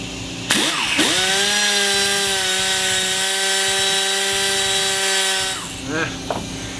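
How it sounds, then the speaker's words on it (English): An old power tool cuts a piece off metal in a home gun-rifling shop, starting with a sharp burst and then a loud, steady, sustained whine of several seconds that winds down near the end, close. "So go ahead and cut this sucker off."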